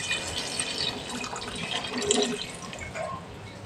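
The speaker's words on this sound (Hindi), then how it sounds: "तकरीबन 1 लीटर मैं पानी डाल रही हूँ" Water pours and splashes steadily into a cooking pot for mutton paya, about 1.5 litres, a continuous close trickling and sloshing with no voices.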